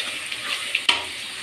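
Spice masala with turmeric and chilli paste fries in oil for a homemade biryani, giving a soft, steady sizzle with a couple of sharp stirring clicks near the end.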